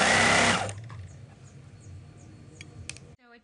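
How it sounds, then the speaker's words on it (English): A sewing machine zigzag-stitches elastic onto a panty leg edge in a short, loud, fast whirring burst, then falls to quiet ticks and fabric handling. "I'm basically gonna like zigzag it, or overlock it, zigzag it"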